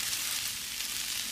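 Chicken fried rice sizzles in a pan on a gas range over medium-high heat, a dense steady hiss of frying with no pauses.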